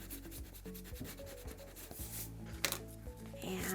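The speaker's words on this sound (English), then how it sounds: "we'll burnish it down really good." Paper is burnished down in a handmade 4x6 mini album, producing a series of close, rhythmic rubbing and scraping strokes at a quiet level.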